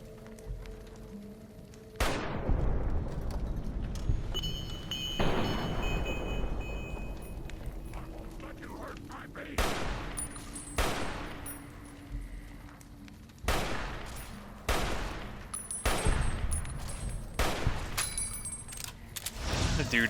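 Repeated gunshots in Fallout: New Vegas ring out as sharp, loud reports with echoing tails, some single and some in quick clusters, spaced irregularly across a quiet background.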